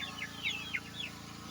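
Barred Rock and Buff Orpington hens in a warm chicken house give a short run of soft, repeated clucks, fairly quiet and close, with no voices.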